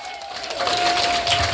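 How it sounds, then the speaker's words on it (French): Wedding guests applaud the newlyweds in a reception hall, a burst of clapping and cheering that swells after a moment and continues, with a steady tone running underneath. "On peut les applaudir bien fort."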